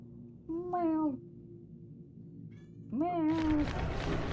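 A cat meows twice at close range, each call a drawn-out wavering cry with a quiet gap between, followed by a burst of rustling noise.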